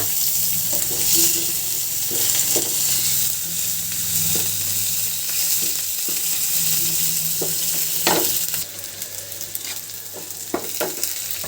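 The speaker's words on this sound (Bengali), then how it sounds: "দুটো একসাথে করে আমি সুন্দর করে একটু ভেজে নিচ্ছি।" Chili paste and cumin paste fry in a pan with onion and green chilies, a steady close sizzle broken by occasional stirring scrapes and clinks, with no talking.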